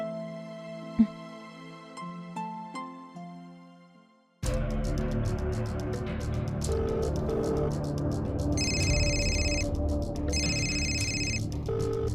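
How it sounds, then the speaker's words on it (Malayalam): A phone rings unanswered in a domestic drama scene, repeated high electronic ring bursts over a loud, dense background of music after a quieter start. "ഫോൺ എടുക്കാതിരിക്കുന്നേ?"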